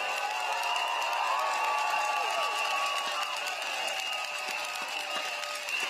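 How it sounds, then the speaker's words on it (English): A stadium crowd at a People's Action Party election rally in Jurong West cheers and applauds continuously, a dense, steady wash of clapping and whoops sustained over several seconds. "please make your loudest cheers and applause for Minister Desmond Lee."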